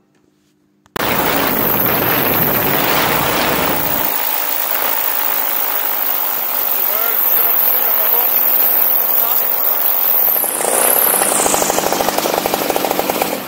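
A tandem paramotor engine drones loudly and steadily right up close, a harsh continuous roar with a rising whine near the end, after a second of near silence.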